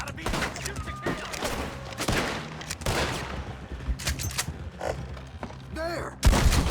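Gunfire in the video game Red Dead Redemption 2, a rapid series of sharp shots and thumps in a chaotic fight, with mechanical clicks and short bits of talk in between.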